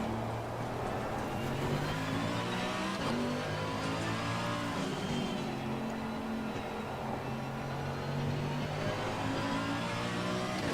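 A race car in Assetto Corsa Competizione laps the Nürburgring with a steady, loud engine drone that rises and falls through gear changes, a rattling vibration running underneath, with no talk.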